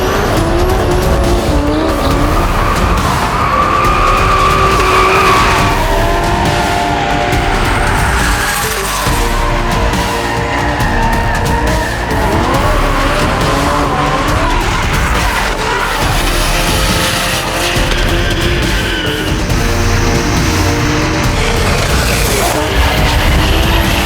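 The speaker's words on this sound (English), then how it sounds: "I love drifting because it's the art of trying to control a car that's out of control." A drift car skids with long squealing tires and a roaring, revving engine, loud and sustained without a break, with shifting squeals layered over the engine.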